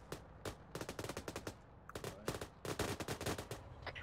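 Rapid bursts of mounted-gun fire in Arma 3, loud and close, rattling in repeated volleys with short pauses between them.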